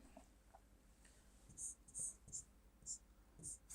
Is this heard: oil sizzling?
no